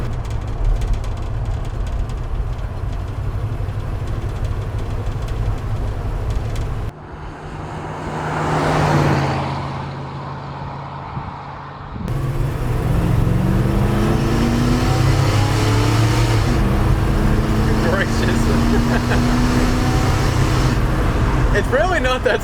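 An old Dodge truck with a 360 engine accelerates hard, its deep engine note swelling and rising in pitch through a long pull, close by and loud, with road noise and a brief quieter stretch in the middle.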